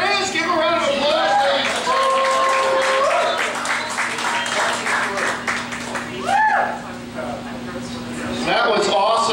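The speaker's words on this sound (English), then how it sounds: "Give a round of applause." An audience breaks into a round of applause, dense clapping with scattered cheers and whoops that runs for several seconds while people talk and shout over it.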